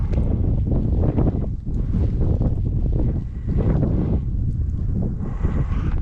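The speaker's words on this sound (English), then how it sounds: "I don't know if you can hear it on the GoPro, but it's windy out." Strong gusty wind buffeting the microphone outdoors at a harbor park ahead of a cold front and snow storm, a loud continuous roar with surging gusts and no talking.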